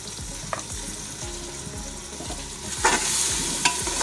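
Masala with coriander powder and salt being roasted in oil in a pan for matar pulao, a steady close sizzle with repeated spoon scrapes and stirs, louder bursts of crackle near the end.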